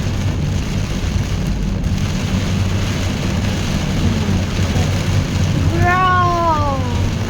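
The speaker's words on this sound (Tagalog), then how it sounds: "Bagyo na talaga yan" Heavy typhoon rain and gusting wind roar steadily and loudly, with a brief rising whine near the end.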